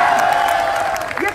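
A crowd at a political speech about the JNU violence responds with a short steady burst of applause and cheering, dense and fairly loud throughout.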